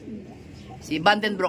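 A pigeon coos in a few short soft pulses, near and fairly clear, overlapping someone speaking.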